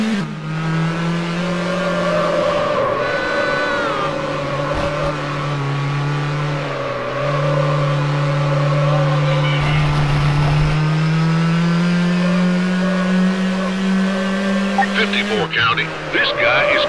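A BMW Z8 in the Need for Speed Hot Pursuit 2 video game races at high speed, its engine droning loud and steady with rising and falling revs, a brief tire squeal near the end, and radio voices talking over it.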